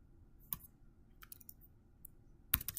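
Keys tap on a computer keyboard as a prompt is entered, sparse quiet clicks in two small clusters, faint and close with no voices.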